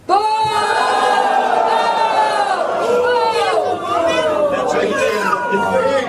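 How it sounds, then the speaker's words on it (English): A crowd booing, many drawn-out voices sliding up and down together in a loud, sustained jeer. "They are booing"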